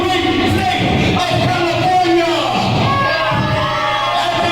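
A crowd at a wrestling event roars and cheers loudly and without pause, with shouts and whoops rising from the mass of voices.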